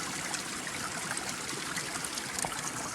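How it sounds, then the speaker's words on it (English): Small spring water trickling out of rock outdoors, a steady close-up wash of running water that stays even throughout with no voices. "Found a little spring coming out of the rock here."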